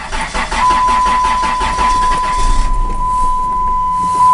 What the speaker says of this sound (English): I'm about to start it up.